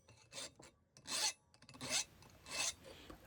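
Hand file rasping across a piece of scrap brass in quick sped-up strokes, about five rough scraping bursts in a steady rhythm, close but fairly quiet.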